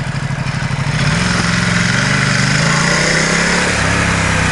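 A Ducati XDiavel S motorcycle engine runs close by, a throbbing mid-low pulse that rises into a steadier, stronger drone and then eases back slightly near the end.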